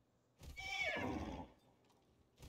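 A horse mount in World of Warcraft: Shadowlands lets out one clear, descending whinny lasting about a second, with faint background sound and no voices.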